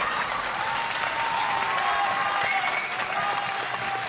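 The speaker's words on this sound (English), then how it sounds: "I haven't had that much applause since I joined T-Mobile" Audience applause during a livestream, sustained even clapping from many hands at a steady level, with faint cheering or a tone threading through the wash of claps.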